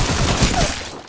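Dense burst of rapid gunfire from an online Apex Legends match, loud and continuous for about a second before cutting off.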